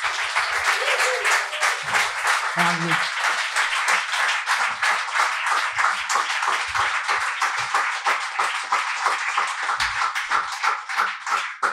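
Audience applause aboard a boat show for a jazz pianist, a strong, sustained crowd clapping that runs the whole stretch, with a spoken name at the start and brief voices surfacing beneath.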